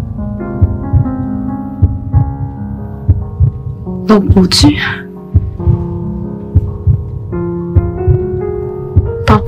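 Heartbeat sound effect in a Korean romance drama: a steady low throbbing pulse repeats throughout over a sustained musical hum, with a brief line of speech in the middle.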